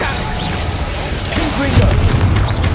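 Confringo fire spell explosions in the Hogwarts Legacy video game, booming blasts with a low rumble, loud and close amid game noise and a voice speaking.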